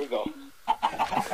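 Chickens in the video game Minecraft cluck in a quick run of short, close, repeated clucks after a brief lower call, with a voice talking around them.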